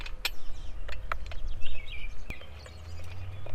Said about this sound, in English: Birds are loud, huh?